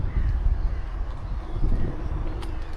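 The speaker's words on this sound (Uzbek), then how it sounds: "Qushni qarang, ko'rdingizmi?" A crow caws outdoors, a rough call heard at a moderate distance over steady wind and low rumbling background noise.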